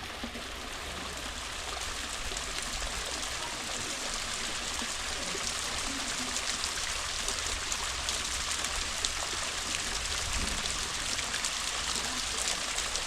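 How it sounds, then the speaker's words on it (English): Steady waterfall at a scenic spot on Spain's Costa Dorada, a constant broadband rush of falling water that holds evenly throughout with no voices over it. "I always love like a waterfall sound."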